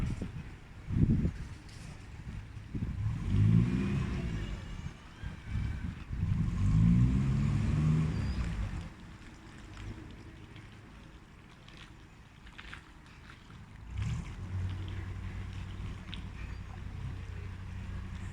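A narrowboat engine reverses its propeller while cruising through London, a low rumbling churn that rises in two surging bursts and then settles into a steady drone, with no talk.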